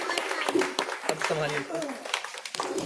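An audience at a yoga institute event in Basti district applauds a boy named Shashank with scattered hand claps, while someone speaks loudly over them through a sound system.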